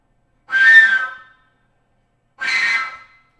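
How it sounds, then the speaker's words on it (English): Two breathy whistle tones from a flute, each about a second long with a pause between, blown like a train whistle, clear and loud with no other sound. "if you aim your air up, you can get that train whistle sound"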